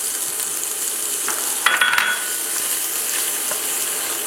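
Onions sauteing in a pan give a steady, even sizzle throughout. A spoon stirs and scrapes the pan briefly around the middle, up close, with no talk.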